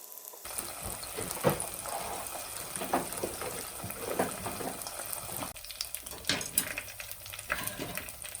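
Chili oil ingredients frying in a pan over a gas flame give a lively close sizzle with scraping stirring strokes and crackling bursts throughout, without speech.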